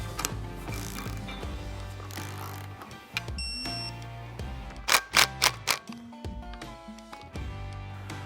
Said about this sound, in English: just gotta torque the top cap, 25 foot-pounds